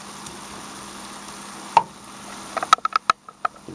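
Shaved steak fries in a pan with a soft steady sizzle, broken by several sharp utensil knocks and taps near the end, with no one talking.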